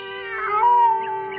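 A cat meows in a single drawn-out, tonal cry that swells and fades, close and clear with no talk, a sound effect from a radio drama.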